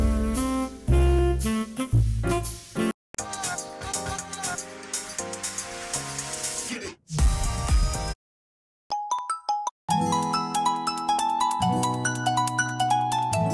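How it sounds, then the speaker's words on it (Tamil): A series of MIUI 11 nature-themed notification tones and ringtones plays back to back, bright chiming and tinkling melodies separated by short silences, clear and close with no talking. "சூப்பரான சவுண்ட்ஸ் எல்லாமே ஷாமி வந்து ஆட் பண்ணியிருக்காங்க, நேச்சர் சவுண்ட்ஸ் அப்படின்னு சொல்லலாம்"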